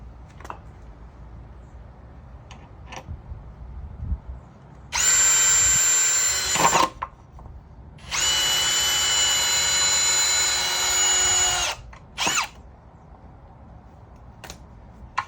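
Power drill driving long screws through wooden blocks on a homemade crawler suspension bridge, two sustained high whirring bursts of about two and four seconds plus a short final blip, loud and close with no talk.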